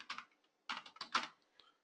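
A computer keyboard being typed on, two quick clusters of close, crisp key clicks separated by a brief pause, then a couple of lighter taps.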